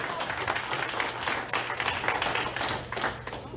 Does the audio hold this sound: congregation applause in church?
yes